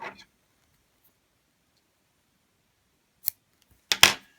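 Scissors snip through crochet yarn, with one sharp cut followed by a quick double snip close to the microphone in an otherwise quiet room.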